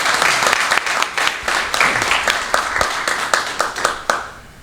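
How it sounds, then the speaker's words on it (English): Audience applause at a Network of Champions gathering, with individual claps standing out sharply and close by over a thinner spread of clapping that fades toward the end. "Let's give them a big, big round of applause."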